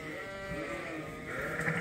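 Sheep bleat inside a barn on a farm, a drawn-out wavering call close by over a quiet background.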